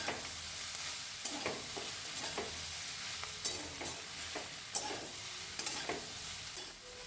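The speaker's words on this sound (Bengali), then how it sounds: "এবার সমস্ত ডিম আর সবজির মধ্যে আমি মিশিয়ে নিচ্ছি" Homemade wheat pasta stirred with eggs and vegetables in a pan: repeated scraping stir strokes over a steady sizzling hiss, close and alone without talk.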